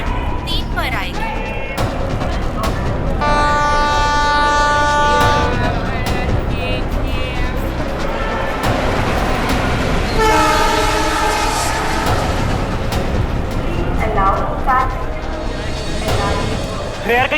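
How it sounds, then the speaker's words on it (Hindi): At an Indian railway platform, the Mumbai–Delhi Paschim Express pulls in with a loud rumbling roll and two long blasts of its horn, over station noise and background voices. "मुंबई से दिल्ली जाने वाली पश्चिम एक्सप्रेस प्लेटफॉर्म नंबर 3 पर आएगी।"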